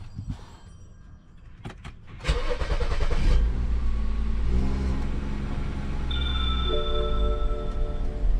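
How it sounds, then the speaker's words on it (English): A car engine is cranked and catches after a couple of seconds, flares briefly, then settles into a steady close idle with a faint electrical whine near the end; no one speaks. "you want to start the engine and let the car idle for 15 minutes."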